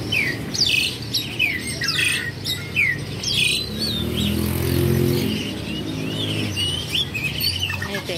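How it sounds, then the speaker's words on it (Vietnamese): A black myna calls inside a bird shop in Vinh Long, repeating bright chirps and whistles up close, while a motorcycle engine rumbles past in the background. "này là con sáo đen nè các bạn"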